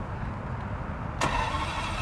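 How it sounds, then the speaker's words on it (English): A Ferrari 456 with a 5.5-litre V12 cranks and fires, a sharp broadband burst of the engine catching, then settling into a steady close rumble over a low idle background. "And you can now start the car."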